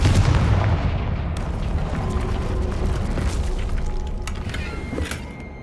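Confringo spell blast in the Hogwarts Legacy video game: a heavy, booming explosion at the start that rumbles and decays over several seconds, with debris-like crackles scattered through the tail.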